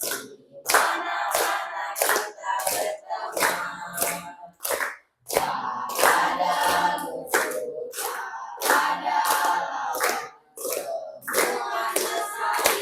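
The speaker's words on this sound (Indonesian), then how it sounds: "Tepuk tangan." Children in a classroom clapping hands in bursts of rhythmic, fairly close claps, with short pauses between rounds as voices chant along in a clapping game.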